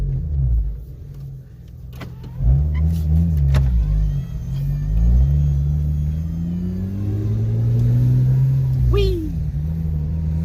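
Engine of a custom H6 Subaru Impreza drift car with a 5-speed, heard from inside the cabin as it drives. A loud, steady low rumble rises and falls with revs, and voices talk over it now and then.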